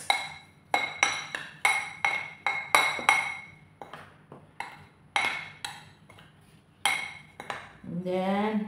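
A utensil clinks sharply and rhythmically against a bowl while binangkal batter is mixed, about a dozen bright ringing strikes, then a voice speaks briefly at the end.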